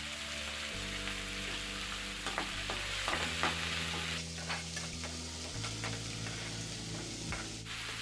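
Two chopped onions and three green chillies fry in a pan for masala idli, a steady soft sizzle with scattered ticks and scrapes of stirring, close and fairly quiet, with a low background hum and no talking.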